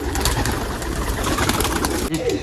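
Pigeons cooing close by among loose rooftop pigeons, a low soft murmur with flutter-like bursts of wing noise throughout.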